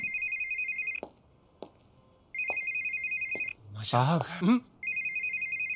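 A telephone rings for an incoming call in a Bhojpuri film scene, loud electronic trills in repeated bursts with short gaps. Thuds land between rings, and a voice speaks briefly in the middle.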